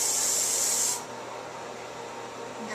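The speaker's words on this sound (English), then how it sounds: "Just go over it lightly with the hairspray." Hairspray hissing from an aerosol can in one close, steady burst lasting about a second over a pin-up hairstyle, then cutting off and leaving faint room noise.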